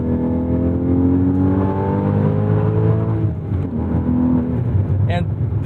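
A 2016 Porsche 981 Boxster GTS engine pulls under throttle in sport mode, its tone climbing smoothly then easing off, heard from inside the car with a steady drone and a voice talking over it.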